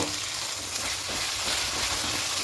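Coriander leaf paste sautés in oil in a pan for an egg curry, giving a steady, close hissing sizzle throughout, with no voices.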